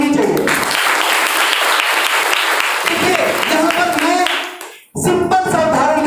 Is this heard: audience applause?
yes